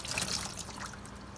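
Warm water poured over cheesecloth into a jar of soaking wheatgrass seed, a steady close trickle and splash running through the cloth without pause.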